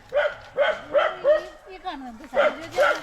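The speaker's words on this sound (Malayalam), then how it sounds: "ഈ ഒരു പട്ടിയുടെ ഭയങ്കര ബഹളമാട്ടോ" A dog barks and yips repeatedly in quick bursts, close by on a village farm, with a whining, whimpering tone between barks.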